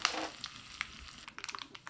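Mustard seeds, urad dal and cumin spluttering in hot oil in a pan while tempering a chayote kootu, a burst of sharp crackles and pops at the start, then scattered quick pops over a soft sizzle.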